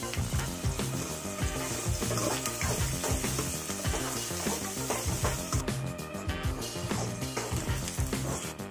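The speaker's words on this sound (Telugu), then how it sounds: "మళ్ళీ ఆయిల్ హీట్ అయ్యాక దాంట్లో ఆనియన్ వేసేయండి" Chopped onion sizzles and fries in hot oil in a bowl on a stove, a loud continuous crackle close up with stirring clatter, no talk.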